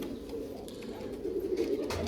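Young pigeons, one smoky grey and one blue-spotted, coo softly and continuously, close by against a steady low background hum.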